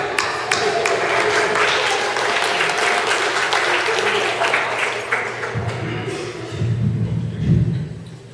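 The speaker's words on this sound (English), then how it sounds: "Yeah, give me a clap." Wedding guests clap together during a best man's speech. The applause is dense and steady for several seconds, then fades, with a few low thumps and a murmur of voices near the end.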